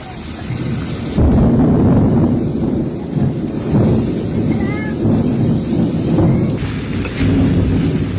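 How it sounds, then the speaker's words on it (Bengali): A violent thunderstorm with heavy rain: a dense, loud roar of rainfall pours steadily throughout, with deep rumbling thunder rolling beneath it and no voices. "বৃষ্টির অবস্থা খুবই খারাপ, ভয়াবহ। আকাশে তো খুবই গর্জন করতেছে।"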